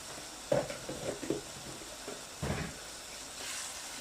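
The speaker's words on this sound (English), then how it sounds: "just stir it together" Fried rice being stirred in a hot pan, with a soft sizzle under several scraping and tapping strokes of a utensil against the pan, quiet and close, coming in short bursts.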